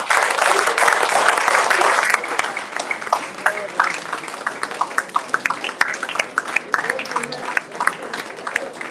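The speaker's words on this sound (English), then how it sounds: "we all stood up for the professor for a round of applause" Audience at a governor's event applauding a professor, a dense wash of clapping that starts loud and thins into scattered individual claps, with some voices underneath.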